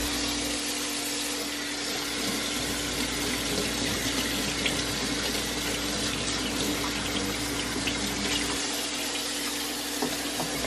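Tap water running steadily over seafood being rinsed in a sink, an even close splashing rush that holds for the whole stretch with no speech.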